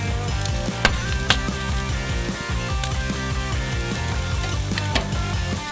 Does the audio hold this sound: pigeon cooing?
no